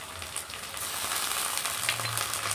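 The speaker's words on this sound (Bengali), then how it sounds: "এবার এর মধ্যে দিয়ে দেবো আমি আদা বাটা" Ginger paste sizzles and crackles in hot oil with browned chopped onions, a steady, dense frying hiss that continues without pause.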